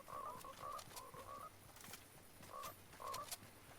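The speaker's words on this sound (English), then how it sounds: "Damn, that frog scared me." A video game frog croaks in short repeated bursts, about five quick calls spaced unevenly, faint and alone against a low background hiss.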